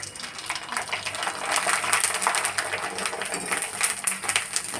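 Kurdai drop into hot oil and fry with a steady, bright crackling sizzle that swells and pops close by throughout.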